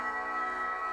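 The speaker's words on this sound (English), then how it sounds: "This is the sound of a taus, a bow-stringed instrument from central and northern India." A single sustained, reedy bowed-string note from a taus, a bowed string instrument from central and northern India, with rich overtones, held steady and even for under a second.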